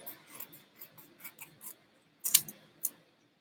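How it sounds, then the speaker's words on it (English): Scissors trim adhesive vinyl decal: a handful of soft, quiet snips, a short pause, then two sharper, louder cuts close by, with no talking. "And then you can just trim it."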